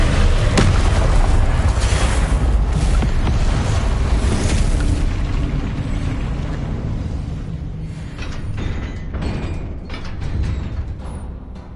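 A Confringo blasting spell explodes in Hogwarts Legacy on PS5, a loud booming blast opening the clip and trailing off into a long rumbling decay with scattered debris crackles.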